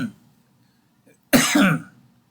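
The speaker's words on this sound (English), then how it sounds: "the coughing is it's just sinuses and the air is dry" A single harsh, close cough from sinus irritation and dry air rings out after near silence.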